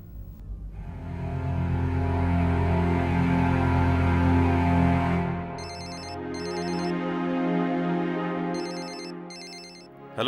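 Telephone ringtone during a call, an electronic melodic pattern with bursts of repeated chirping tones, fairly loud and clear with no talk over it.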